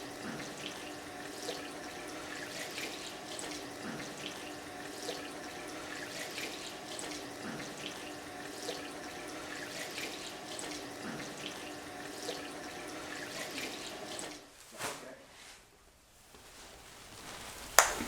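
Tap water runs steadily into a sink as a nurse washes hands during a wound care assessment, a constant moderate splashing stream for about fourteen seconds before the flow stops and a few drips and small clatters follow.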